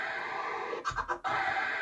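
A Pioneer DDJ-REV7 DJ controller plays its Instant Scratch slot 1 phrase: a brief burst of two or three quick scratch strokes cutting through a steady background track.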